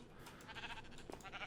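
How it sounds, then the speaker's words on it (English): Sheep in the vanilla Minecraft video game bleat in short wavering calls over a steady soft background, close and moderately loud, with no talking. "So let's grab some pink sheep"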